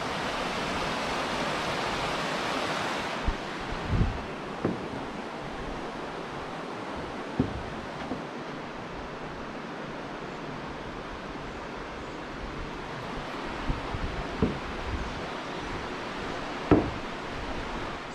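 The Locust Fork of the Warrior River in North Alabama flows beneath a covered bridge, a broad, steady rush of moving water with occasional faint knocks and thumps nearby, and nobody speaking.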